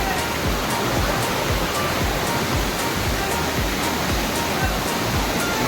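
Achakanya waterfall in dense Western Ghats forest near Aralasurali village, Thirthahalli, roars with loud, steady rushing water that fills the clip without a break.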